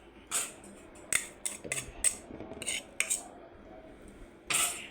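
A spoon clinks and scrapes inside a bowl while stirring chili paste and tamarind sauce to dissolve them, with a series of bright metallic taps spaced irregularly and quiet mixing sounds between.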